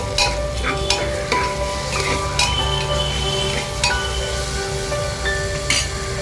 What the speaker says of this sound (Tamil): இது கூடயே ஒரு தேக்கரண்டி இஞ்சி பூண்டு விழுதையை சேர்த்து ஒரு 5 நிமிஷம் நல்லா வதக்கி விட்டுக்கோங்க.